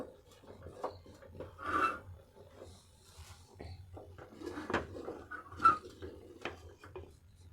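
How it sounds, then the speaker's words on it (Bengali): Dry wheat flour is stirred into water to form dough for gurguri pitha, giving faint scraping and rubbing strokes of a spoon against the pot in an irregular rhythm, close and quiet. "এভাবে নেড়ে আটাটা জলের সঙ্গে মেখে নেব"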